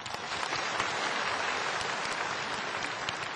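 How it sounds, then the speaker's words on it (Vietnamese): An audience gives a round of applause for two teachers, a dense, loud, continuous patter of many hands clapping close by with no voices over it. "Xin một tràng vỗ tay cho hai cô giáo ạ."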